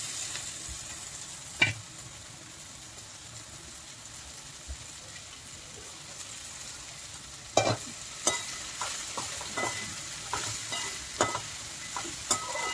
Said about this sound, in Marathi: आता हे भेंडी कापलेली आहे ते टाकून देते.